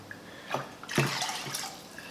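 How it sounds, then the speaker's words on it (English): Splashing pour of white vinegar into a pot holding water in a home kitchen, a short soft liquid gush with faint trickles and drips on either side. "I'm going to take 1 cup of white vinegar"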